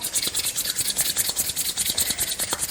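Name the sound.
hands rubbed together to warm them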